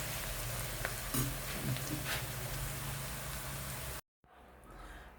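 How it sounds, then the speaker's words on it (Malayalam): Onions frying in hot oil give a steady, dense sizzle with occasional crackles and stirring clatter, close and moderately loud, cutting off briefly before the sizzling resumes more faintly. "അപ്പം നമുക്ക് ഉള്ളി വറുത്ത് പോരണം"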